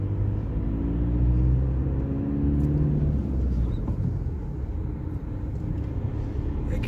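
A car drives through a driving-exam route in Sarria with a steady, loud engine rumble from inside the cabin, humming evenly throughout without speech.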